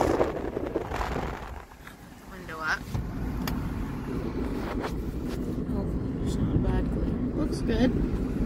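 A car drives along a road, its steady engine hum and tyre rumble heard from inside the cabin beneath a person talking, with light wind noise.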